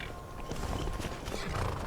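Horse hooves clopping in Skyrim Special Edition, a short run of soft, irregular hoofbeats at a moderate distance over low ambient background, with no talking.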